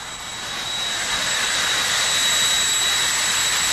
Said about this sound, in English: Jet Dragsters getting ready to go once again here at Raceway Park.